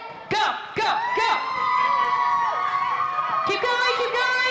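At a school STEAM night event, a crowd of children cheers and whoops for a team, loud shouts rising in bursts over a sustained roar, with voices calling out among them.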